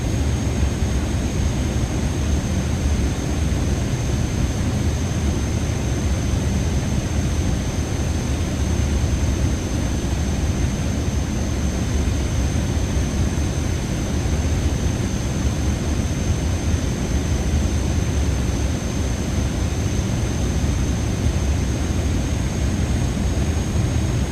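Steady, loud broadband roar of an airliner's engines and airflow during the climb after takeoff in Microsoft Flight Simulator 2024, a constant drone with a faint high whine, heard alone without talk.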